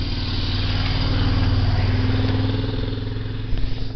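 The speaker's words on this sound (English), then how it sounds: "Here comes a bike, so be prepared for a little loud engine roar." Motorbike engine on a mountain trail in the Santa Ana Mountains, a steady loud mid-pitched roar that swells close and holds throughout, drowning the surroundings before slightly easing at the end.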